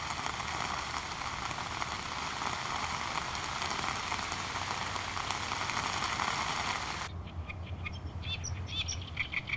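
Steady rain patters on a wetland around a great crested grebe nest, with chirping bird calls scattered through it, before the rain noise cuts away abruptly near the end, leaving sparse calls.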